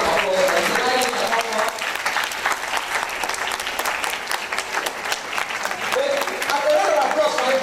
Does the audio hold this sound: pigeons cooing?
no